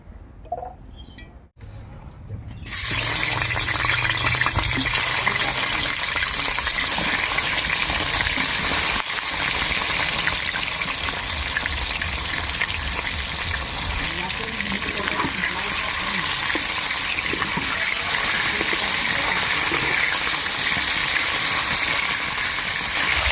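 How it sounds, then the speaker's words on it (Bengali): Fish, bori and eggplant frying in plenty of oil in a kadai over a smoky stove, a loud continuous hiss and sizzle that starts abruptly after a quiet moment and holds steady throughout. "কড়াই তেলটা বেশি করে দিয়ে দিচ্ছি, এর মধ্যেই মাছ, বড়ি, বেগুন সব ভাজা হবে।"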